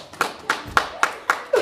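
A small group claps in slow, evenly spaced single beats at an elementary school performance of A Midsummer Night's Dream, about five sharp hand claps roughly a quarter second apart, close and moderately loud.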